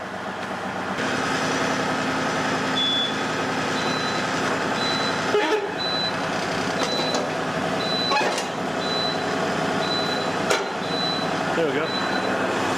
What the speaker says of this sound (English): so now the tractor is free. So all we got to do is drive out